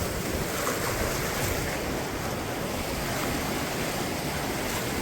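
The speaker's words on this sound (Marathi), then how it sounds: "काकांनी आपल्याला मेन ट्रेक मधून एक सुंदर अशा धबधब्यापाशी, सिक्रेट धबधब्यापाशी आणलंय." Waterfall on a trek in the Andharban forest of Maharashtra, a steady loud broadband roar of rushing, falling water that holds constant throughout with no pauses and no voices.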